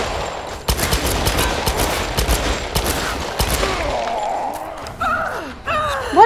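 Rapid bursts of gunfire from the Tomb Raider video game, loud and close, rattling through the first half before thinning out, with swooping electronic effects and brief gasps near the end.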